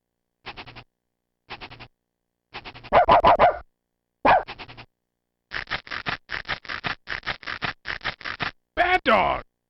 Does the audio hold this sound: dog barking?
yes